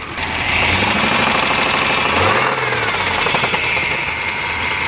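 A 1998 Chevy Blazer with a Vortec V6, knocking on one cylinder bank, revs in a loud, steady run close to the listener, with a rapid rattling clatter riding over the engine drone and a brief rise in pitch midway.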